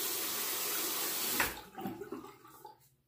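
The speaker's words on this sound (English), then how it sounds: "I'll drain this water" Water runs from a sink tap in a bathroom at shaving time, a steady broadband rush for about a second and a half that cuts off and gives way to softer gurgling, trickling drain sounds.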